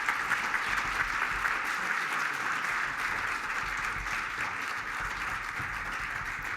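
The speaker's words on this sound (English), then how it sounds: "let's give a Detroit Economic Club applause for a great speaker" Sustained audience applause at a Detroit Economic Club event for a speaker, a dense, even wash of clapping from a large crowd that holds steady throughout.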